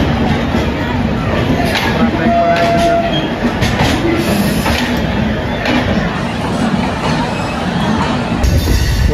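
The Paschim Express, an Amritsar–Mumbai passenger train, rumbles steadily along the tracks at a Delhi station, with continuous loud wheel noise and faint squeals. Someone talks over the train noise.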